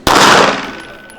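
A single loud gunshot goes off at a shooting range aimed at a target, a sharp close crack followed by a short decaying ring.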